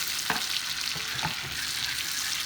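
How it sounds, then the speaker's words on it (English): Minced garlic sizzles in melted butter in a pan, a steady, close crackle with a few soft clicks from the pan. "So I'm going to put this minced garlic in here with that butter."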